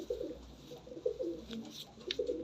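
Sialkoti pigeons coo in low, throaty bursts, several rounded calls repeating close by at moderate volume with faint rustling between them.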